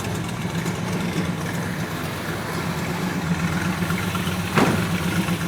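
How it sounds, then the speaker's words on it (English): A carbureted engine in a 1970 Plymouth AAR Cuda runs cold at a steady, rumbling idle, close and loud, with one brief sharper transient near the end. "When they're carbureted, they're cold-blooded, and it hasn't been started since like this morning."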